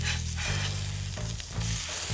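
Smash burger patties seasoned with a dry rub sizzle steadily and loudly on a hot griddle just after being flipped, a close, continuous frying hiss with a few scraping stirs.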